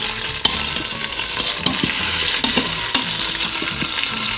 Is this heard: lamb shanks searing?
yes